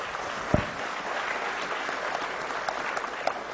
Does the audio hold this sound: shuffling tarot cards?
no